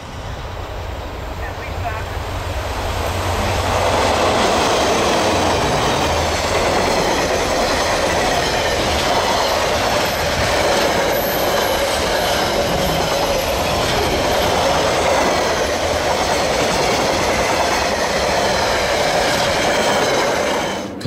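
A Dunedin Railways train in New Zealand runs steadily on the rails with a loud continuous rumble, rhythmic clatter of wheels and faint squealing, heard from on board.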